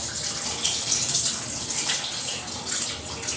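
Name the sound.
tamarind water poured into sambar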